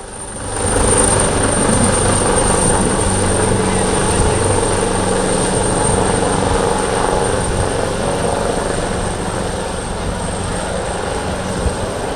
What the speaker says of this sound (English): The Italian Air Force's HH-139 is a specialised variant of the Leonardo AW-139 helicopter variant used for search and rescue missions